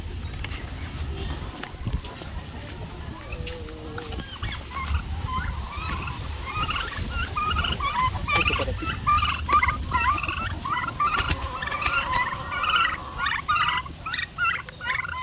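Five pet turkeys on a small farm gobble repeatedly through the stretch while eating feed, with overlapping calls close by and steady farmyard background noise underneath.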